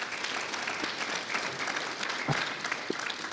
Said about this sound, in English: I would like for you guys to give a round of applause to Alan, Mark Morrow, Ray.